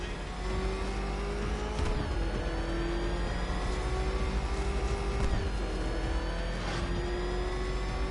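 Car engine racing hard in the Batman Arkham Knight video game, a loud continuous revving drone with shifting pitch, occasional tire squeals and passing whooshes, no talk.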